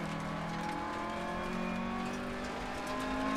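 A Lancia rally car engine in the Dirt Rally racing game runs hard and continuously, with a steady, close, sustained revving drone throughout.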